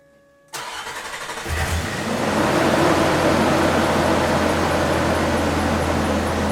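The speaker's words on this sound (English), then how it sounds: "So now I'm going to go ahead and start the vehicle" Nissan Xterra engine cranks and starts after a MAF sensor replacement, catching within a second and settling into a loud, steady idle with a low hum, recorded close with no speech.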